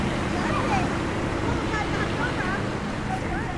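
Waves slap and wash against a kayak out on open water in the Port Washington Narrows, a constant loud rushing of surf and water noise with wind buffeting, under faint high calls.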